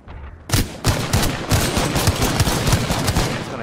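Gunfire in the Apex Legends shooter starts abruptly after a short quiet lead-in, then runs as rapid, loud, close bursts with a repeated punchy rhythm and no talking.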